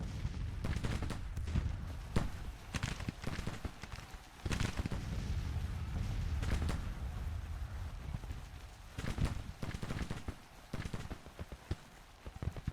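Massed rifle fire from an enemy brigade in a Civil War battle game: dense, irregular crackling volleys and scattered shots, some near and sharp, others distant, running continuously without pause and with no voices.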